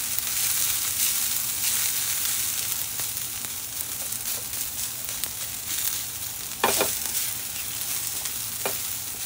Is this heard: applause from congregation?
no